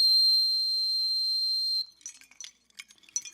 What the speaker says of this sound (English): This next whistle is from Alaska, and it's made out of a piece of a walrus's tusk.